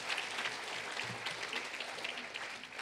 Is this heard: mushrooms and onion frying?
no